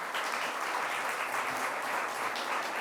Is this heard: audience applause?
yes